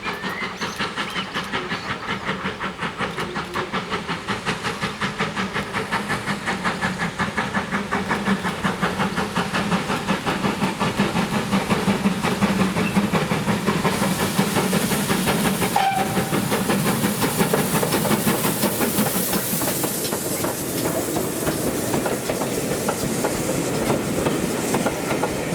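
Steam locomotive Odney Manor pulls into Crowcombe Heathfield station on the West Somerset Railway during a spring gala, its exhaust chuffing rhythmically beneath loud hissing steam, with a sharp whistle blast partway through and no talk.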